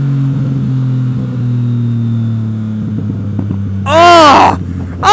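A Yamaha MT-09 motorcycle engine drones close and steady, easing off in pitch, before a sharp, loud rising surge near the end that fades into a brief second burst.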